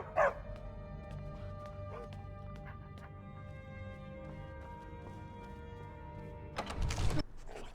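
A dog barks in the Skyrim video game, a loud burst near the end over steady tonal game music and ambience, with a fainter yelp near the start.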